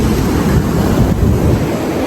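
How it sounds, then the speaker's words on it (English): Ocean waves crash and wash continuously onto Takapuna beach, a steady close roar of surf with gusting wind rumbling across the microphone throughout. "You can hear the waves crashing."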